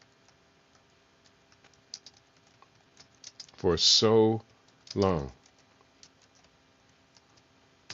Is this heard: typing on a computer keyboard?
yes